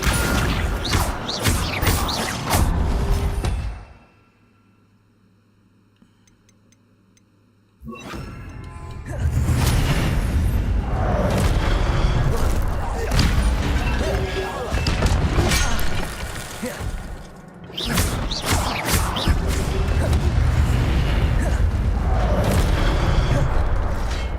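Incendio fire spells and Accio pulling spells cast in Hogwarts Legacy erupt as dense, loud bursts of booms, crashes and whooshes, break off into near silence for a few seconds, then surge back continuously.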